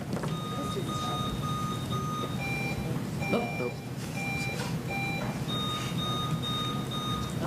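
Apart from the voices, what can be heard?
quiz competition buzzers beeping during buzzer check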